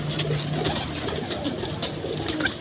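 Pigeons coo at close range, with soft, repeated low calls and a few brighter chirps from other birds against a steady background hum, and no talking.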